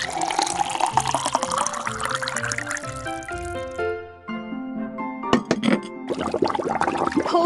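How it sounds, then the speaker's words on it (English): Cartoon tea pouring into a cup for a letter-learning activity: a liquid trickle with rising gurgles over bright musical notes, followed by playful chimes and a short splashy flourish. "Can you help Mrs. Potts pour some tea?"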